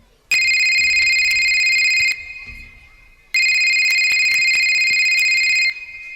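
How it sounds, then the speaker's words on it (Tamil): A telephone in a school annual-day Arabic skit rings in two long electronic bursts of bright warbling tone, each lasting about two seconds with a pause between, loud and close on stage. "என்ன இவ்வளோ நேரம் ஃபோன் அடிக்குது"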